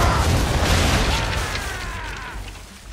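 Old gunpowder barrels exploding under naval cannon fire in Assassin's Creed III, a heavy booming blast with deep rumble that rolls on and slowly decays, debris crackling faintly behind it.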